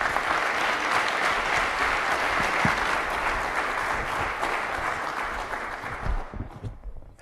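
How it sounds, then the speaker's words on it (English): Applause from the audience at a Kansas City startup pitch event as presenters take the stage: dense, sustained clapping that stays loud for several seconds and then thins out and fades at the end. "Give them a big round of applause."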